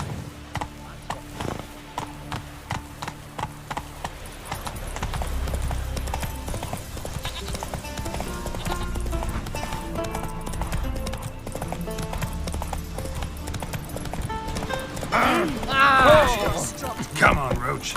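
Hooves of Roach, a horse in The Witcher video game, clip-clop steadily under game music and occasional talk, building to a louder gallop near the end, with a brief whinny-like burst.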